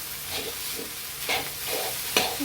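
Bamboo shoots with egg stir-fried in a pan: steady sizzling under repeated spatula scrapes and stirs, ending with one sharp metallic clack, close and without talk.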